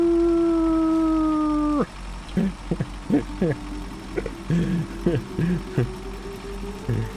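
A voice lets out a long, steady howl imitating a dog howling along to a siren, then breaks off into laughter and excited talking.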